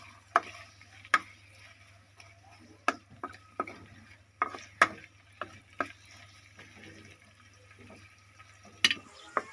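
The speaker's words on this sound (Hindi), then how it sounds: "प्याज को हल्का ब्राउन कर लेंगे।" Onions are stirred as they brown in hot ghee for a village-style ridge gourd dish, with sharp, intermittent spoon clacks against the pot over a quiet, steady low hum.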